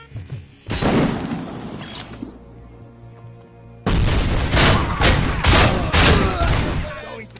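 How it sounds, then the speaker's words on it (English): A frag grenade blows up amid gunfire in the shooter game Robocop: Rogue City. A loud boom and a burst of shots come first. After a short lull, a longer barrage of heavy, rapid gunfire follows up close. "Frag incoming!"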